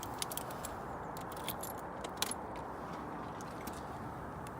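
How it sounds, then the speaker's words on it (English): A key goes into the ignition of an Audi A4 B6, with a faint, close jingle of keys and a few small clicks over a quiet background hum. "Put the key in the ignition."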